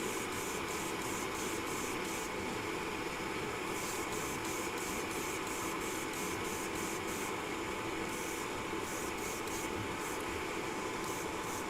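Airbrush spraying Vallejo color shift paint in a light coat, a steady close hiss of air running continuously with brief rhythmic pulsing bursts over it, and no talking.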